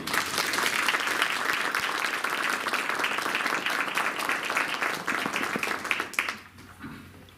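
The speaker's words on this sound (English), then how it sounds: "Can we give them one more round of applause?" Audience at a school board of education meeting giving a round of applause, dense sustained clapping from a crowd that fades out near the end.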